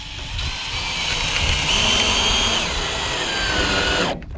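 Power drill driving screws into corrugated greenhouse roofing without pilot holes, one steady high whirring run lasting several seconds at close range, then cutting off abruptly.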